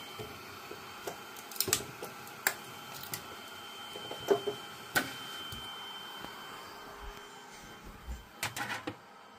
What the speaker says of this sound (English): let's see if my 3D printer can print articulating things